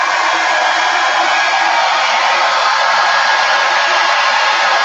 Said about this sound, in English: When you're going to use a blow dryer, turn it on for a couple of seconds first